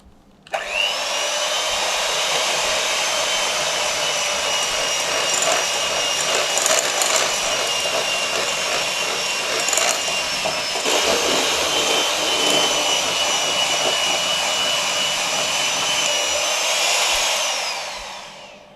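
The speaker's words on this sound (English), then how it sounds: "So I'm just going to use a handheld beater." A handheld electric beater whirs loudly and continuously through wet chocolate orange mud cake ingredients, a high buzzing drone with slight dips as the bowl is worked, stopping near the end.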